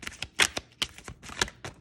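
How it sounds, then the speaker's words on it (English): Glossy oracle cards are side shuffled by hand in a rapid series of crisp, close riffling bursts with short pauses between them. "we have the side shuffling here."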